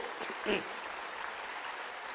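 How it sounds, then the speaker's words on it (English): An audience at a Youth 20 consultation at KIIT Bhubaneswar applauds a Member of Parliament from Ukraine, a steady wash of clapping from a large hall, with a voice speaking over it. "I advise all of you to give a big clapping for the Member of Parliament from Ukraine."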